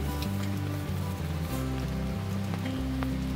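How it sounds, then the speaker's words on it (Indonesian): Light drizzle patters steadily on a camp on Mount Tandikek, a soft, even hiss of raindrops heard close, with a low tonal drone running beneath it and no speech. "Kita sarapan dulu sementara gerimis mulai datang lagi."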